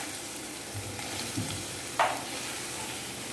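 Two finely chopped onions fry in a pan for a Kerala-style mushroom roast, a steady close sizzle with a brief clink of stirring partway through and no talking.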